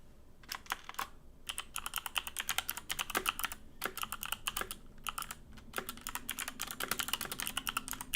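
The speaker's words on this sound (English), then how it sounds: "My mic is right above my keyboard, so my apologies if typing is all you can hear." Rapid typing on a computer keyboard during a livestream, with dense clattering keystrokes running throughout, loud and close to the microphone with no talking.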